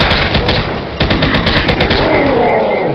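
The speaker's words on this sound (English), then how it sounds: "Chain gun." A chain gun fires in a Doom video game mod: loud, rapid continuous bursts of gunfire with a rattling rhythm, a brief gap near the second mark, then sustained shooting to the end, with no talk.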